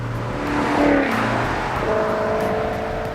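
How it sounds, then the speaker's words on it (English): The exhaust of a 2013 Maserati GranTurismo Sport in sport mode, a steady low engine drone with a slight swell in revs, heard from inside the car with no talking. "put it in sport mode so I could hear that exhaust and just enjoy it"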